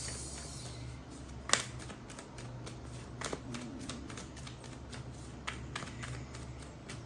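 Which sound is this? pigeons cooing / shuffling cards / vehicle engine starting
shuffling cards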